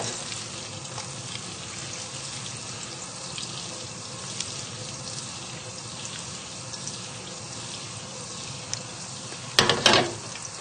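Butter melting and sizzling in a pan while cooking turkey curry, a steady close frying hiss that continues throughout with a brief louder clatter near the end.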